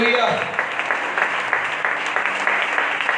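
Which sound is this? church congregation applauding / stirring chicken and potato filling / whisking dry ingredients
church congregation applauding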